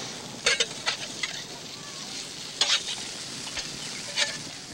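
Steaks cooking over a fire, with a low continuous sizzle broken by a few sharp crackling pops, close and fairly quiet.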